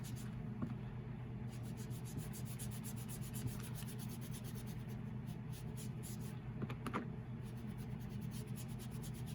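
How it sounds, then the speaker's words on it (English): Ink being rubbed onto paper edges, a faint, steady scratchy rubbing in quick repeated strokes over a low background hum, with a couple of soft knocks. "get another good rub on the ink"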